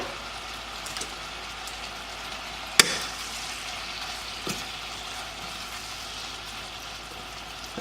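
Meat and onions sizzle softly in a frying pan with a steady crackle like light rain, and one sharp utensil knock partway through plus a fainter tap later, with no speech.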